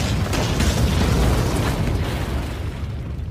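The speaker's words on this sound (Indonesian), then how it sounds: "Namun karena usahanya gagal, Shinobi tersebut meledakkan dirinya di sebuah gua." A shinobi blows himself up in a cave, and the explosion comes as a loud, continuous rumbling roar full of crackling bursts that fades slightly toward the end, with no voices over it.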